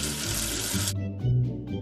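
Water runs from a cartoon tap in a steady close rush to rinse soap away, cutting off abruptly and leaving a few soft musical tones behind.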